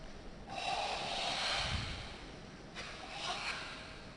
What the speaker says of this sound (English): And that's what we're hearing very clearly there, the breathing.